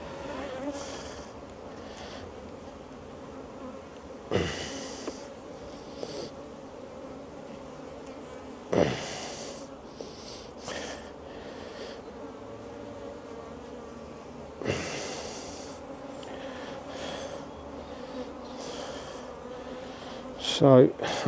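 Honeybees hum in a steady, close drone from an open hive during a spring inspection, joined by a few soft knocks and handling bumps from the frames.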